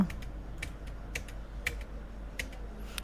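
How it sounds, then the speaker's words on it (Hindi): Computer keyboard keys, including Enter, are pressed while making entries in Tally Prime accounting software: a steady run of light, close clicks at an irregular pace over quiet background hiss, with no speech. "एंटर को प्रेस कला"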